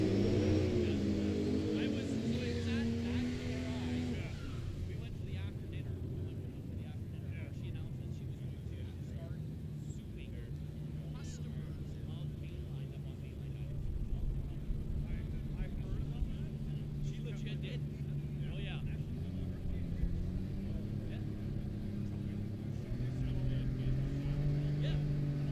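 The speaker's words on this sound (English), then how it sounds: "The Volvo and the Triumph on their way down the racetrack." Volvo and Triumph Spitfire hot rods run down a racetrack, their engines droning steadily with rising and falling pitch over a wash of road and wind noise, partly under talk.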